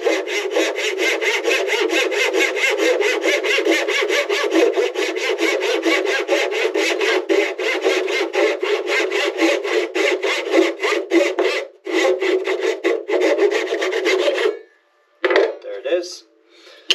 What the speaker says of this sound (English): I like to use this nice carcass saw right here and just place that against the fence.